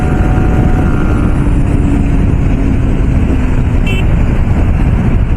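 A Bajaj Pulsar motorcycle at full speed in a drag race makes a loud, sustained engine roar mixed with heavy wind rush, with a brief higher whine partway through.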